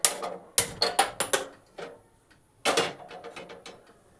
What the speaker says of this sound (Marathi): इथे मी गॅसवर पातेलं ठेवणार आहे.